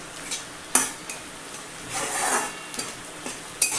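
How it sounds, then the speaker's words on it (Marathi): Onion browning in a pan for a green peanut chutney, stirred with a utensil that gives several sharp metallic clacks and scrapes over a low sizzle. "आता हा कांदा भाजत आला आहे."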